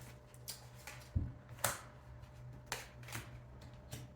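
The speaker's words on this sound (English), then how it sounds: "I shuffle these thoroughly before I start." Quiet riffling and slapping of tarot cards being shuffled, a few soft bursts spaced irregularly over a low steady background hum.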